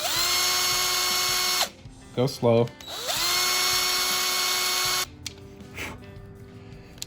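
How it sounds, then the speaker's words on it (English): A power drill whines steadily in two sustained bursts, close by, drilling a small guide hole in a guitar tuner clip, with a brief spoken remark in the pause between them. "I'm going to line it up. Just drill a little hole"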